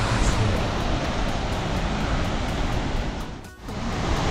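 A waterfall on a walking trail in Ciudad Guayana, Venezuela, gives a loud, steady broadband rush of falling water that fills the whole scene, with one brief dip in the roar.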